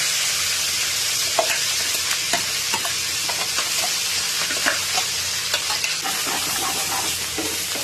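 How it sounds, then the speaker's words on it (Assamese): Ground masala paste frying in oil for palak paneer, a continuous bright sizzle with repeated scraping and stirring taps from a spoon in the pan, close and alone. "আৰু এইখিনি ভালদৰে আকৌ এবাৰ ভাজি ল'ম।"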